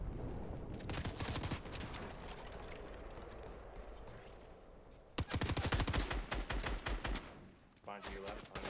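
Rapid bursts of automatic gunfire in Fortnite, loud and close, with a long sustained stretch, a pause, then another dense volley and a shorter final burst.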